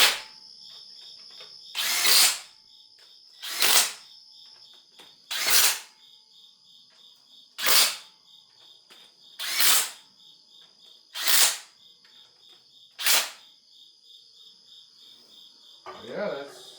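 An impact wrench drives down valley cover bolts on an LS engine, seven sharp rattling bursts spaced about two seconds apart, loud and close, with a faint steady hum between them and a brief voice at the very end.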